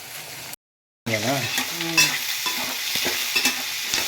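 Onions sautéing in a pan, a close sizzle with bursts of spatula stirring, a brief full dropout near the start, then louder frying with occasional scraping clicks.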